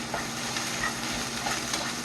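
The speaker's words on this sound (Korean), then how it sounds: "살짝만 볶으면 돼요. 자, 이렇게 볶고" Vegetables stir-fried in a pan for soy-sauce royal tteokbokki, a steady close sizzle with soft scraping and stirring throughout, no talking.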